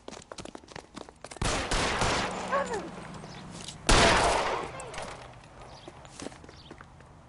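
Gunfire in the detective video game L.A. Noire: two sharp, loud bursts a few seconds apart, with game sound and faint movement between them.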